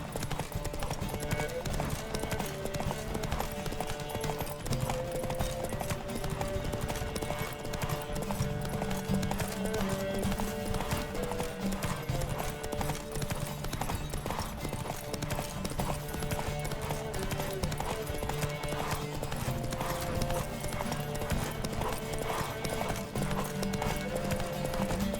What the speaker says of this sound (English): Riders, ready? Giddy up. Don't spare the horse.